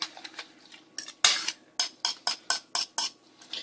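A utensil whisks egg whites and omelet ingredients in a bowl, with a series of sharp, evenly spaced clinks against the sides, close and clear, and no voices.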